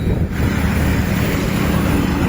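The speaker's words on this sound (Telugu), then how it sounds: "గాలి ఏమో మొత్తం హెడ్ విండ్ గాలి" Strong headwind buffets the microphone while cycling in the evening near Kanyakumari, a loud continuous rumbling roar with no pauses and no voices.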